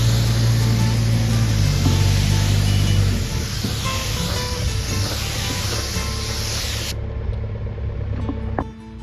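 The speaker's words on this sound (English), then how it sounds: "And now I'm going to spray on the first coat here." A spray gun applying primer to an arcade control panel hisses steadily and loudly at close range, then the broad spray cuts off abruptly near the end, leaving a quieter hum.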